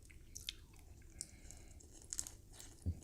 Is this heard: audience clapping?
no